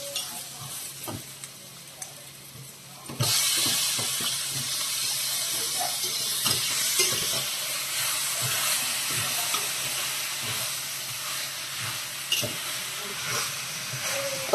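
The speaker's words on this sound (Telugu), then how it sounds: "ఒక 2 నిమిషాలు ఫ్రై చేసుకుందామండి." Potatoes with turmeric fried in a pan for an aloo-brinjal tomato curry: quiet stirring clatter at first, then a loud sustained hiss and sizzle with occasional utensil scrapes, close by.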